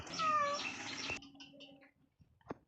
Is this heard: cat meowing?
yes